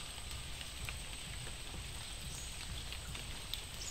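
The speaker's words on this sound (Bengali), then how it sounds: "বৃষ্টি নামছে দুপুরবেলা," Steady midday rain falls near a pond with broken bathing steps and trees, a dense, even patter of drops on surfaces that holds at a constant level throughout with no voices.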